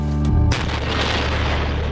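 Explosion set off inside a room, a sudden heavy boom that follows a brief tonal lead-in and leaves a long rumbling, crackling decay.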